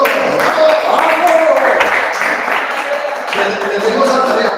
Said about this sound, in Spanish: Un aplauso para Heriberto.